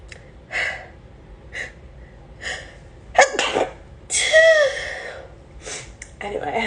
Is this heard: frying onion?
no